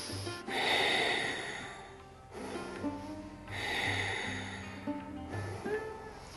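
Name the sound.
deep breathing during yoga flow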